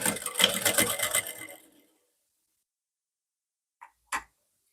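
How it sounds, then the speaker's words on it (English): Sewing machine running a straight stitch along a blouse dart, a steady dense whirring burst that stops after under two seconds, followed by silence and two brief clicks of handling near the end. "then give a stitch here, and the stitch should be a straight stitch"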